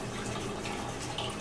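Aloe vera leaves are being washed in water, giving a steady close wash of running and splashing water without pause or talking.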